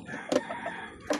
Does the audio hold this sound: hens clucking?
yes